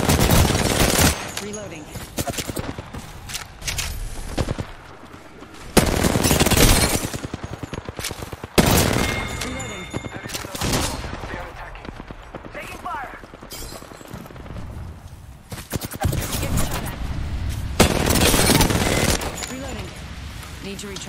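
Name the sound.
gunfire in a video game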